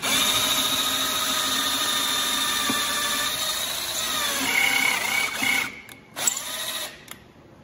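A power drill whines steadily as it bores into acoustic guitar wood, then slows and cuts off in short bursts near the end.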